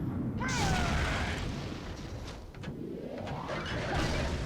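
God Hand's La Bomba charge move makes a loud whooshing burst with a rising swish, followed by a dull impact and a second sweeping surge that builds up.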